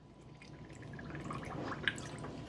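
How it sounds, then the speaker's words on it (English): White vinegar poured into a jar to fill it halfway for pickling, a soft, faint trickle and gurgle that builds gently, with one small clink near the end. "let's start with some normal white vinegar. And we're gonna fill it up halfway."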